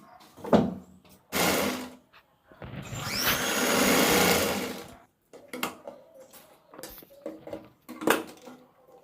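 A sewing machine stitches a tuck blouse in a few separate bursts, the longest running steadily for about two seconds. Softer handling clicks and taps come between the runs, and the whole is heard close.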